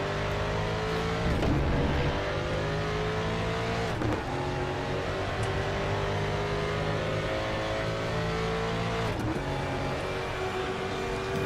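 Several 1992 DTM touring race cars scream around the manic Chang circuit at Buriram in Raceroom, a Mustang among them, engines revving hard and continuously with sharp gear-change dips and a loud, dense hornet-like drone.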